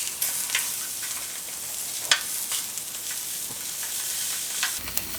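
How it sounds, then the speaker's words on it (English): Italian sausage in its casing browning in a hot frying pan, a steady crackling sizzle with scattered pops and spatters, close and continuous, with no talking. "when you're browning the Italian sausage, it'll kind of try to want to curl up because of the casing."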